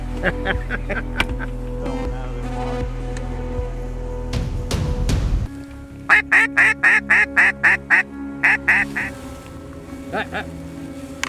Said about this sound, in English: There were 2 drakes to shoot.